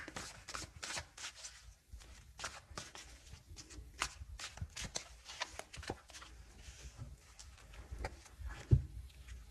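A tarot deck being shuffled by hand, close and quiet, with a quick run of crisp riffling card slaps and soft shuffles continuing steadily without talk.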